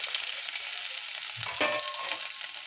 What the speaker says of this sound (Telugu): ఎల్లుల్లిపాయలు వేసుకోవాలండి ఇప్పుడు ఆయిల్లోని